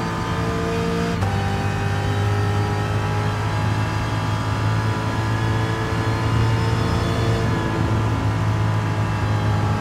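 Ford Mark 1 1966 race car engine in a racing video game played with a G29 wheel and pedals, a loud steady engine drone with sustained harmonics and a brief gear shift early, continuous throughout with no talking.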